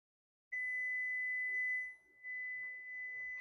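A kitchen timer gives a steady, high-pitched electronic beep continuously, dipping briefly before resuming, with no talking over it, during home canning of pickled hot pepper relish.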